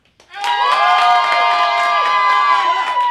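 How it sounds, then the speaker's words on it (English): Crowd of young audience members cheering and shouting loudly to vote on a TV game show, a sudden swell of high voices and whoops that stays loud and sustained. "If you think that it's Poppy, clap now."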